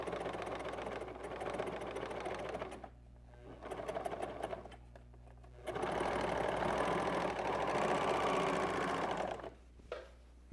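Sewing machine with differential feed ruffling fabric, running in steady close mechanical bursts: one long run, a brief pause, a softer stretch, then another long loud run before stopping.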